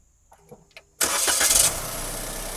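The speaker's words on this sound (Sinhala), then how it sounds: "මම දැන් මේක ස්ටාර්ට් කරන්න කියන්නම්." A Suzuki Wagon R engine cranks and catches after a few faint clicks, bursting into a loud start that settles into a steady idle, close by.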